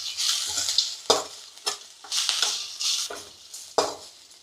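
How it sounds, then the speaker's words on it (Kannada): Coriander and other ingredients sizzling in oil for a Mandya-style chicken green gravy, with a spoon stirring and scraping the pan in repeated bursts and a few sharp knocks against the vessel. "ಇದನ್ನು ಚೆನ್ನಾಗಿ ಫ್ರೈ ಮಾಡಬೇಕು."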